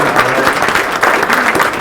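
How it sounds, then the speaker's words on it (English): Audience at a legislative breakfast giving a round of applause, close, loud and even clapping that fills the room with a few voices underneath. "so we'd like to give them a nice round of applause"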